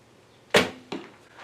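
A 40 lb Wing Thunderbird bow shoots an arrow, its string snapping with a sharp, loud twang, followed a moment later by a fainter thud, close by in a quiet setting.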